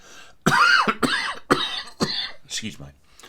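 Several harsh coughs come in quick succession, close and loud, followed by a softer throat-clearing sound at the end.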